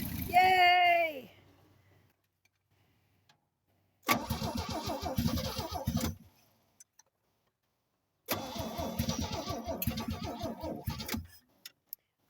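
A 1966 Chevy engine with a carburetor not taking gas cranks in two long bursts of several seconds each, loud and close, after a brief voice at the start.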